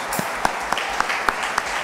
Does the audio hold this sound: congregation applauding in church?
yes